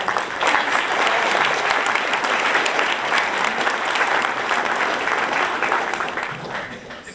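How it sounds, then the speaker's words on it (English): Sustained applause from a large audience, steady and dense clapping throughout, tapering slightly at the end. "let's give the Northeast region a round of applause"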